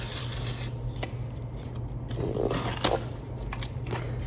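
An 80CRV2 steel blade snips and slices through material in a few quick, crisp cuts with faint scraping between them, close and fairly quiet, no talking.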